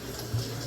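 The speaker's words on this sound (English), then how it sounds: "I got hot water going through here" Hot water runs steadily from a tap into a sink during drain repair work, a continuous close hiss and splash with no talk.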